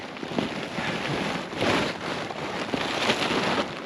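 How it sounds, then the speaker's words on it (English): Rain beginning to fall outdoors, a steady soft patter of drops on surfaces with faint wind, continuous and moderately quiet with no voices. "it's just started to rain"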